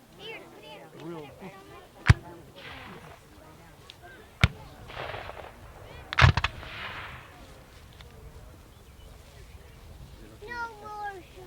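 Three sharp, distant blank-fire shots from a Civil War reenactment battle, spaced a couple of seconds apart, heard over crowd murmur and people talking nearby.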